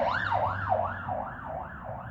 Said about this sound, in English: There's another ambulance going by.